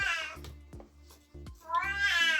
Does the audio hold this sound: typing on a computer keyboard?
no